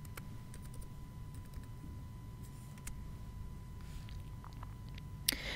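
Quiet, scattered keystrokes on a computer keyboard while entering a vendor number into business software, with irregular taps over a low steady hum and a sharper burst of clicks near the end.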